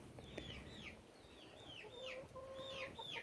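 Backyard hens clucking and calling, a run of short rising-falling squawks repeated several times at moderate distance over a faint outdoor background, with no talk.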